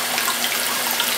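Water from an electric RIMS sparge water heater pours steadily into a bucket, a continuous close hiss and splash with no pauses and no voices.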